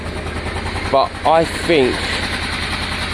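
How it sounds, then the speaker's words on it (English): A Honda Deauville motorcycle engine idles smoothly after a carburettor clean, a close steady low putter running throughout while someone talks over it in short bursts. "it's idling and revving very smooth as it sits"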